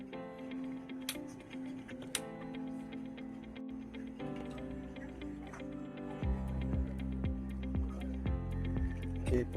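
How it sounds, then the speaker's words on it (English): Telephone hold music on a Grandstream GXP1610 desk phone, a quiet tonal melody over a steady ticking pulse, playing alone without talk. "I will put you on hold."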